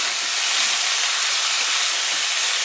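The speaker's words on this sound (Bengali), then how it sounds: "এবার এটাকে ভালো করে ঢাকা চাপা দিয়ে রান্না করব।" Steam hisses steadily from a covered pan of cabbage curry cooking on the stove, a constant broadband rush that stays loud and even throughout with no voices.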